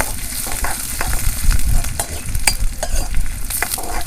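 Gathiya curry made with gram-flour noodles is stirred in a pan as it fries with mustard seeds, cumin and lemon, giving a close, steady sizzle broken by scraping and clinking strokes.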